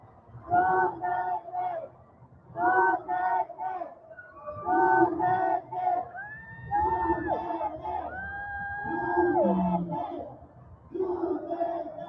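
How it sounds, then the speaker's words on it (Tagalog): A large crowd at a political visit by VP Sara in Inabanga, Bohol cheers, shouts and screams in repeated loud bursts, rising and falling with whoops and high shrieks throughout. "Grabe yung hiyawan ng mga tao,"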